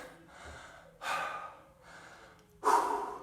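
Heavy, labored breathing from someone out of breath after a full-body strength workout, with long loud gasping inhales and exhales rising and falling in a slow rhythm, close and alone without talk.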